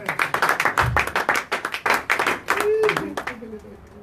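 A church congregation claps in a fast, steady rhythm during a French-language worship service, loud and close, with voices calling out over the clapping before it fades toward the end.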